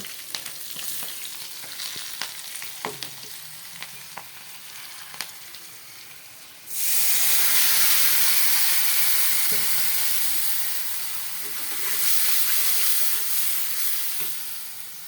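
Green chillies and ground spices hit hot oil with browned onions in a pan for pabda fish, and a quiet stirring gives way to a sudden loud, steady sizzle that swells and eases, with no voices.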